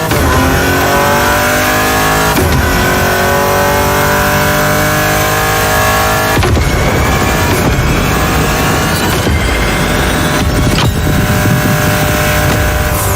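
A car engine roars and revs hard in The Crew Motorfest racing game, loud and continuous, with sharp shifts and surges as it accelerates on a drag-racing runway, with no voices.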